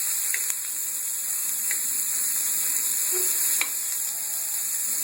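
Tomatoes fry in a pan for a tomato chutney, giving a steady soft sizzle and hiss with a few faint clicks of stirring, heard alone without voices.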